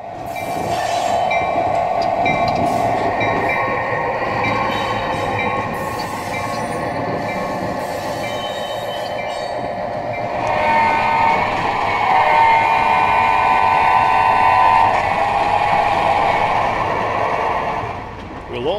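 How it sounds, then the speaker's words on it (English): Model railroad layout with an HO-scale GP9 diesel switcher working a yard: a steady, fairly close rolling rumble of wheels and motor runs throughout, with higher squealing tones rising in the second half. Faint talk may sit underneath. "Powered by one of the railroad's original GP9s, the New Sharon Switcher spends most of its day working the New Sharon yard"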